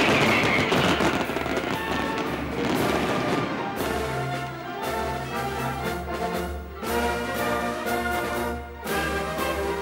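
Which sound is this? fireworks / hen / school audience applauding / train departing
fireworks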